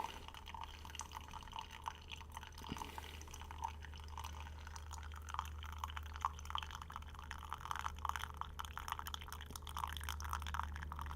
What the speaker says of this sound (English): So I'll keep running the water around the filter, bringing the grains down.